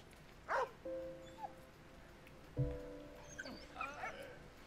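A dog in the World War I video game Valiant Hearts barks and whimpers quietly, with a few short yips and whines spread across a faint background of game music.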